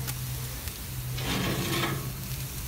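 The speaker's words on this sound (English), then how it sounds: "I'm just gonna give these a little sizzle" Pizza rolls sizzle on a hot grill, a steady crackle that swells briefly louder midway, as if stirred or turned, over a low background hum.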